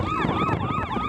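A police car's wailing siren on a street in Xindian, New Taipei, sweeps up and down steadily and loud, close by, over passing-traffic rumble, with no talking.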